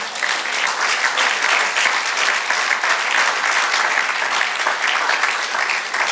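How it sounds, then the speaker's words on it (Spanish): A church congregation applauds during a Spanish-language sermon: dense, steady clapping from many hands fills the room evenly for several seconds, with no pauses. "Dale un aplauso al Señor."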